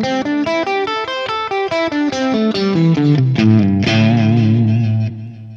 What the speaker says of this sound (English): I'm just gonna play a simple pentatonic scale.